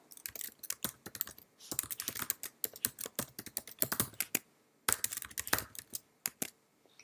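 Rapid typing on a computer keyboard while entering a username and email, crisp clustered keystrokes in bursts with short pauses, close and clear with no talking.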